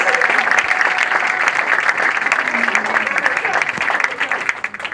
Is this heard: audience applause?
yes